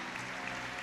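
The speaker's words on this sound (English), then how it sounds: "here she comes as she is greeted by the crowd for this attempt on the world hour record of Leontien van Moorsel." A crowd applauds and cheers as a cyclist arrives for a UCI hour record attempt at a velodrome, a short dense burst of clapping heard close and loud.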